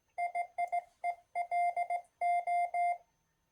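A single clear tone from a Raspberry Pi beeps Morse code spelling "hello" in short and long pulses, with pauses between letter groups, fairly quiet and alone.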